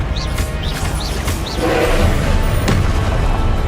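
Confringo explosion spells in Hogwarts Legacy crash loudly and close, with rising magical whooshes followed by a heavy, continuous booming rumble and scattered impacts.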